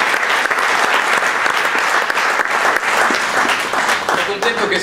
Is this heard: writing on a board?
no